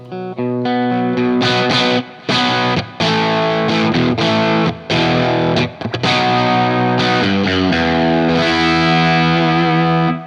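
A distorted electric guitar through a ToneX Marshall JTM45 tone plays a crunchy, moderately driven rock riff. Choppy strummed chords are split by short stops and end on a ringing sustained chord, loud and up close.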